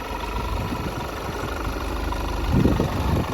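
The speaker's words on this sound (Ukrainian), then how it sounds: "Двигун працює гарненько, чистенько." A Volkswagen Passat B8 2.0 TDI diesel engine idles steadily with a low, even rumble, a slight rise in loudness near the end.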